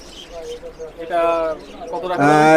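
Pigeons kept for sale coo in short throaty bursts, close by, with a louder, longer call rising near the end while someone talks over them.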